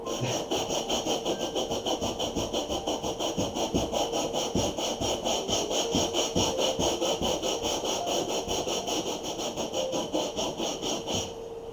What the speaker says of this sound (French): On va faire un petit coup de ponçage pour voir où on en est.